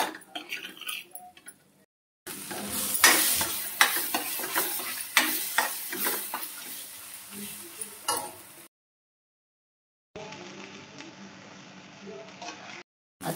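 Paneer bhaji masala with coriander powder and salt fries in oil until the oil separates, sizzling close by while a spoon stirs and scrapes the pan in quick strokes, broken by short silent gaps.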